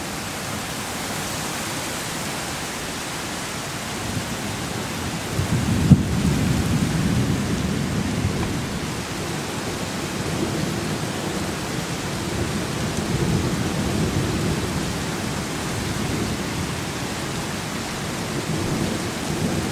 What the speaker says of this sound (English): the thunder and lightning has well and truly woken me up